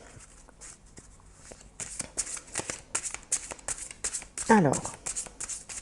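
Osho Zen tarot cards shuffled by hand in rapid riffling bursts, close and crisp, with someone speaking briefly over them.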